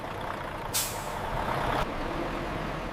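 A truck delivering carrots to a juice factory releases a sharp hiss of its air brake, a burst of air lasting about a second over steady engine idle, with no talk.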